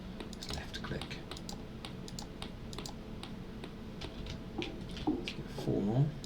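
Computer mouse and keyboard clicks while playing the Occupy Mars video game, quick irregular taps close up with a few louder clicks, faint game sound and some soft voice in the background.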